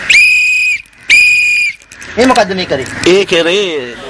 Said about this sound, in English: When you hear the whistle, it means a vessel is in distress